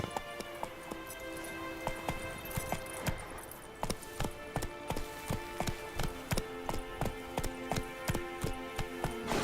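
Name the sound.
horse Roach galloping, from a video game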